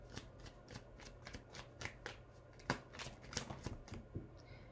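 Tarot cards shuffled in a steady rhythm of crisp riffles and slaps, a dozen or so quick strokes close and alone against a faint background hiss.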